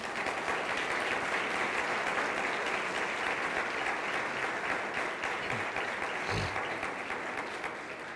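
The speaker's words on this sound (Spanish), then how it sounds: "Podemos darle un fuerte aplauso al Señor." Church congregation breaks into strong, sustained applause for the Lord, a dense wash of many hands clapping close and loud, holding steady for several seconds before easing slightly at the end.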